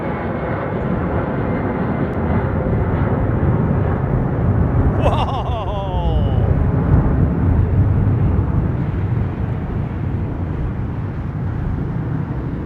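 Airliner jet engines roar at London Heathrow Airport, a loud steady broadband rumble that fills the whole clip, with a brief higher whine partway through.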